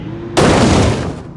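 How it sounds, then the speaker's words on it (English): A car engine blows apart in the BeamNG.drive driving game, a sudden loud broadband bang that cuts in over a low hum and holds as a harsh roaring burst for about a second before easing off. "the engine actually exploded"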